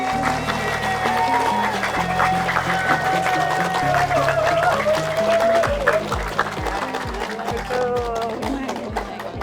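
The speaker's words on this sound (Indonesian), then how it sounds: "Tepuk tangan dong." Studio audience applause on an Indonesian variety show, clapping and crowd noise running throughout beneath a held musical tone and a steady rhythmic beat in the background.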